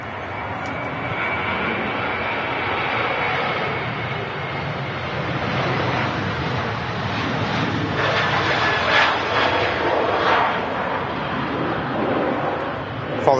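A Ryanair airliner departs Manchester Airport, its steady broadband engine roar holding at a moderate level throughout and swelling slightly toward the end, with no talk over it.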